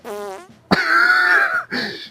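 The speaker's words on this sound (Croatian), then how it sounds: "A moram i ja prdnuti." Three loud, buzzy fart noises in quick succession, close up, the middle one longest.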